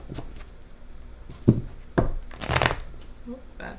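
A deck of tarot cards riffled and bridged in a few quick bursts, crisp papery flutters close up, with faint background noise between.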